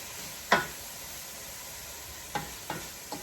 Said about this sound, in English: we're just going to let this saute a minute